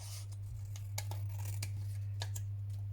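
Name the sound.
scissors cutting the black edge off a photograph album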